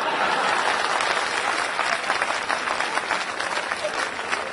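Audience applause at a live comedy show fills the room, loud, dense and sustained, with a broad wash of many hands clapping at once and no voice over it.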